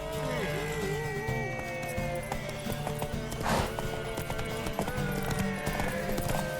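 Horse hooves clip-clop in The Witcher 3, a steady rhythmic trot with a whinny, set against game music and ambient sound.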